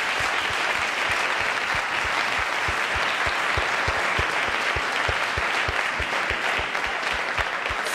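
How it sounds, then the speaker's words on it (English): A big round of applause from the audience after a Kenya panel discussion at a conference, steady dense clapping with one sharper rhythmic clapper standing out throughout. "Let's have a big round of applause"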